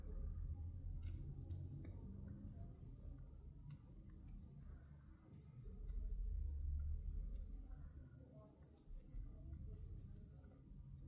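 Scissors snipping through knitted yarn stitches on a garter-stitch dinosaur hood piece, a few soft quiet clicks and snips close by, with no talking.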